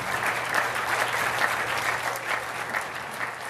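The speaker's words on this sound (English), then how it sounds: "how about one more round of applause for our 2" Crowd in a gym arena applauding two finalists at a high school boys' state basketball final, a sustained, dense wash of clapping with some cheering that holds steady throughout.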